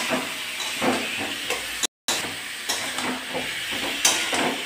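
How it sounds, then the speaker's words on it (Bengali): A paste of ginger, onion, garlic and green chili fries in hot oil in a pan with cumin and bay leaf, giving a steady loud sizzle and hiss with scattered pops and stirring scrapes, briefly cut out partway through. "আদা, পেঁয়াজ, রসুন, কাঁচা লঙ্কা পেস্টটা দিয়ে দিলাম।"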